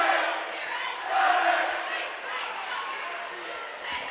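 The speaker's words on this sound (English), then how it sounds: "Pretty boisterous cheering section for South students down here to our left." High school basketball crowd noise in a gym, a boisterous student section cheering and shouting as one continuous roar, with a swell in the middle of the clip.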